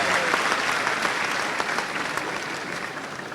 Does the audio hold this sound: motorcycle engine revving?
no